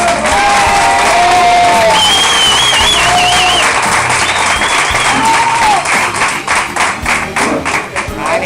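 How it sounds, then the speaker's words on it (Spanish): A crowd at a party in the Nou Girona venue claps loudly for the cook, with sustained dense applause, sharp whistles and cheers that thin slightly toward the end. "¡Un aplauso para el cocinero!"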